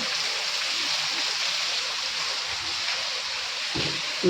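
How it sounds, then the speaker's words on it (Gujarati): A constant rushing hiss of heavy evening rain, with water overflowing from a yard in the dark during a power cut, steady throughout, with a faint thump near the end. "ફરિયામાંથી પાણી બહાર નીકળી ગયા છે એટલો વરસાદ ચાલુ થઈ ગયો છે"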